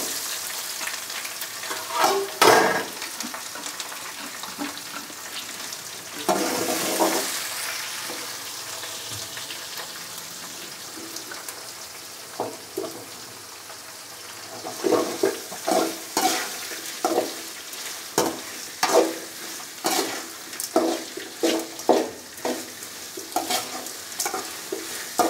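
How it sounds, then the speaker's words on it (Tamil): Chopped onions land in hot oil for a drumstick-leaf stir-fry, starting a sizzle, then a long stretch of frying with rhythmic spoon scrapes and clatter that grows busier toward the end, with no speech. "இப்போ அதுக்கடுத்து நம்ம இந்த கட் பண்ணி வச்சுருக்க வெங்காயத்தை ஆட் பண்ண போகிறோம்"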